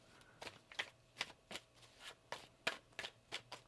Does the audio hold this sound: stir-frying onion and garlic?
no